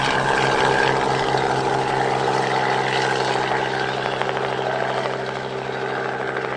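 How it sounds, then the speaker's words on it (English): A tour helicopter lifts off over newly opened Twin Flame Falls, its loud steady rotor thump and turbine whine close by, holding level for several seconds before easing slightly. "The helicopter took flight over the newly opened Twin Flame Falls"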